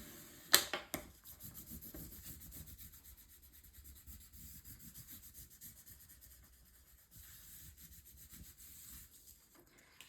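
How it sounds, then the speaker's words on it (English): A bone folder or similar tool burnishing a folded paper hinge flat on a Stamperia mini album, a steady close scraping rub that runs continuously after a brief sharp tap. "And now I will burnish this down."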